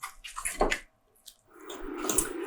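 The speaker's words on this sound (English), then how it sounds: "So now I've added a little bit more water" Water poured into nokedli dough for Hungarian cauliflower soup, a close splashing gush in two bursts separated by a brief quiet gap, the second pour longer and steadier.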